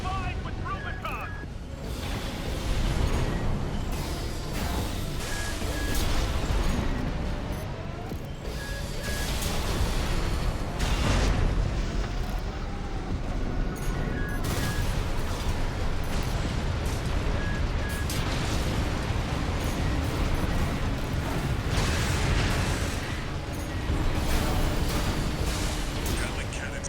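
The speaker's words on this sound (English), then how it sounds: "There's heavy fire coming from up top." Heavy weapons fire and explosions in the mech combat video game Armored Core 6: Fires of Rubicon, a dense, continuous roar of blasts and booming impacts swelling and easing for nearly half a minute, with voices talking over the din.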